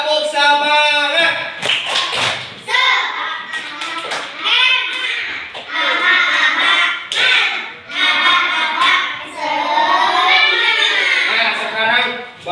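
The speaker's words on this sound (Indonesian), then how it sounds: "Ulangi. Tepuk semangat." A classroom of children doing the 'tepuk semangat' rhythmic clapping chant, with sharp claps in patterned bursts under loud chanting voices throughout, close and energetic.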